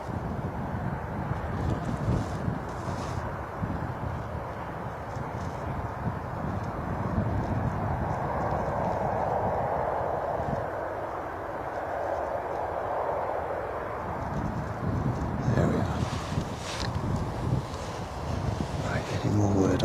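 Gusty crosswind buffeting a microphone at Bristol Airport, a steady rough roar of wind noise running throughout, with a faint distant aircraft drone swelling in the middle.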